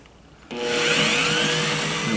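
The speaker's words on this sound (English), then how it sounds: "now we can drill the other mounting hole" A power drill bores a mounting hole for a Ring Video Doorbell Pro, starting abruptly after a short quiet moment and then holding a loud, steady, high whine close by.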